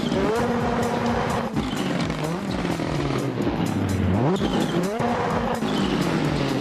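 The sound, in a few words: Ford Fiesta Rally RS 2022 car mod driving in Assetto Corsa video game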